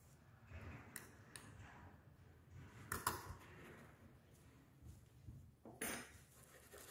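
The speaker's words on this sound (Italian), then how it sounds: "Proviamo un po' ad aggiungere un cucchiaino di sale e vedere che cosa succede." A teaspoon of ordinary table salt is added with a metal spoon during a home polymer experiment. Soft, scattered clinks and scrapes sound against a container, quiet and close.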